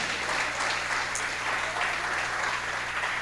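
A church congregation claps enthusiastically, a dense, steady wash of applause filling the room from start to finish with no break.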